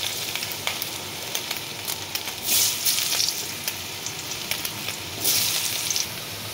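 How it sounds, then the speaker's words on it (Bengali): Potatoes fry in hot oil in a pan after fish heads, cooking for a rice and fish-head dish, a steady close sizzle with bursts of louder crackling as pieces are stirred or added. "আমি আলুগুলো ভেজে দেবো"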